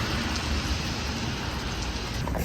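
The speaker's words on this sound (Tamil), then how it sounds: "மழை கொட்டு கொட்டுன்னு கொட்டிக்கிட்டு இருக்கு" Steady rain pouring down outdoors in San Francisco, a dense, even hiss of drops on surfaces, close and unbroken throughout.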